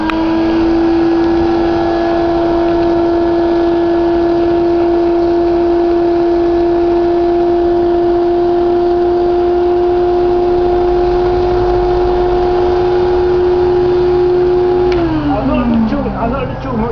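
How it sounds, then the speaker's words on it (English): A vacuum cleaner runs loud and steady on a garden lawn, sucking up fallen blossom with a constant droning whine before the pitch drops as it winds down at the end. "So the only way to do it is to use a vacuum cleaner"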